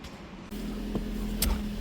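After a click, a used car's engine at a budget auction settles into a steady, smooth low idle, close by, with a brief higher whir near the end.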